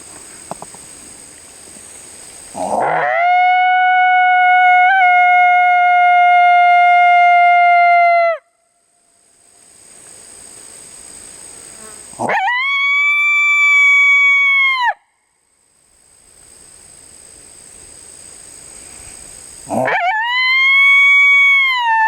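Coyote howls from a FoxPro electronic game caller in thick brush, three loud drawn-out wailing howls in a row, each rising then holding steady, separated by brief quiet gaps.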